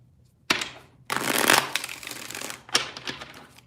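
A deck of tarot cards is shuffled in several bursts of riffling and sliding, close and crisp with brief pauses between, and no talking.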